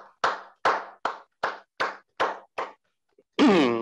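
About seven evenly spaced single hand claps, close and crisp with short gaps between them, at a remote swearing-in ceremony. A brief voice follows at the end.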